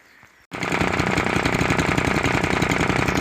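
A subscriber's wood chipper engine starts after a short quiet lead-in, then runs loud and close with a rough, fast-chugging idle that continues steadily.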